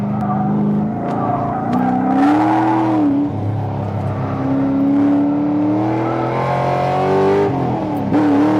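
A 700+ horsepower Corvette engine on a race track, loud and close throughout, its pitch rising and falling through repeated revs and gear changes, with no talk over it.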